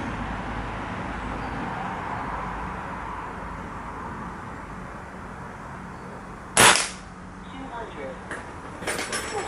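A Kral Puncher Nish .177 PCP air rifle fires one sharp, loud crack over a steady outdoor background hiss, followed by a few fainter knocks and rattles.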